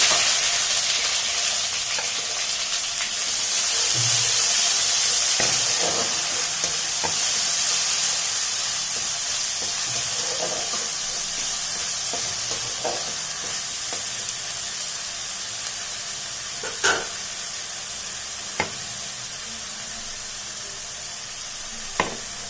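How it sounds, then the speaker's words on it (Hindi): Steady sizzling of garlic and onion frying in a hot pan, with a few soft clinks of a utensil; no one speaks. "अभी लहसुन प्याज भुजा गेल।"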